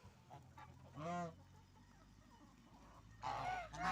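Geese honk in a village yard, a few close, harsh calls in two bursts over faint background noise, with no talking.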